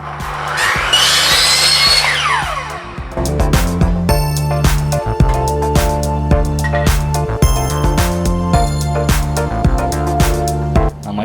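Power tool cutting through board stock for a DIY studio acoustic panel, a loud sustained whine that drops and restarts around three seconds, then runs steadily with repeated rhythmic cutting pulses and tonal hum, close and with no voices.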